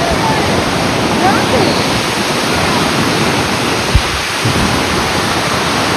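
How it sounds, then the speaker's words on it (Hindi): Water gushes out of a tunnel like a waterfall, a loud steady broadband roar filling the whole stretch without a break, with one brief knock partway through. "वो टनल से आ रहा है पानी, टनल से"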